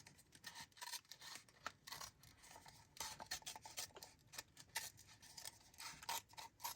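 Scissors snip through paper while cutting out a large paper sunflower embellishment, a quick irregular run of crisp close cuts and rustles, faint and steady throughout with no talk.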